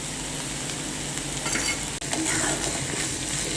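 Onions for a village-style onion and green chili thecha fry in a pan, giving a loud, continuous sizzle with faint scraping as they are stirred and one brief dropout midway.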